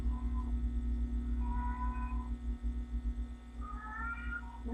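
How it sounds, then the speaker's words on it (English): Pet cat meowing in a couple of drawn-out cries over a steady electrical hum, fairly quiet and somewhat distant, with no talking. "My cat is really loud."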